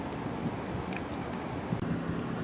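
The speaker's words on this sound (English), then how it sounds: "It's very windy out." Strong wind gusting outdoors at a garage and test facility, a steady broadband roar buffeting the microphone throughout with a brief thump near the end, no talking.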